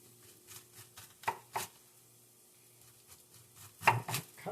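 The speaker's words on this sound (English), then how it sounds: "I like to do is add cabbage to my noodle bowls. And I'm going to make some little cabbage noodles. Just slicing this thing nice and thin." A knife slices cabbage thinly on a cutting board for a noodle bowl, giving a handful of crisp, separate chopping thuds against quiet background.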